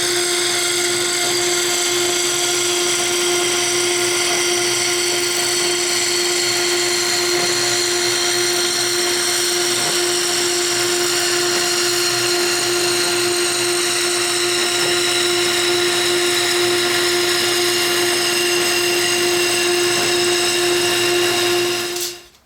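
A router table whines at a steady high pitch while cutting quarter-inch wooden dowels, running continuously and loudly close by before cutting off at the end.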